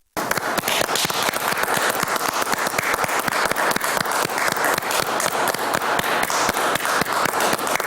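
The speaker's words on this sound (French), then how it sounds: "Pierre-Emerick Aubameyang mérite ses applaudissements." A television talk-show studio audience applauds footballer Pierre-Emerick Aubameyang with dense, loud, even clapping that starts abruptly and keeps up without pause throughout.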